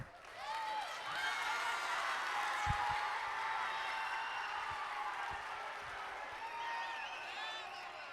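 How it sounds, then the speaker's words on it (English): A high school audience claps and cheers steadily for several seconds, a broad wash of applause with scattered whoops and indistinct voices mixed in. "Let's give him a round of applause."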